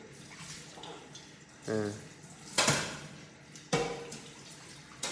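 Someone washes dishes at a sink, with running water and intermittent clattering of plates and cutlery, several louder bursts of clinking rising above a soft background.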